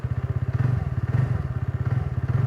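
The engine of a 2025 TVS Ntorq 125 Race XP scooter runs close by in a low, steady, pulsing idle with a throbbing beat and no talk.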